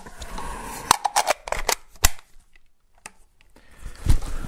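A service rifle being cleared at a competition range: a rapid string of sharp metallic clicks and clacks from the working action, then a pause and a few more snaps, loud and close, with no talk over them.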